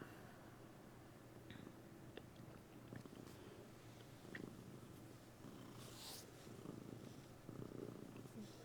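A cat purring in the RPG Moon: Remix RPG Adventure, a soft, steady, low rumble that goes on for several seconds, faint and alone with no talk over it.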